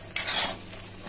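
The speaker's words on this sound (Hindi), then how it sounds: "मैं अपने टमाटरों को भी जब तक ऐसे ही चलाते रहूंगी" Tomatoes cooking in a pan for a masala soya chaap curry are stirred once, a short scraping swish with a soft sizzle underneath, close and fairly quiet, with no talking.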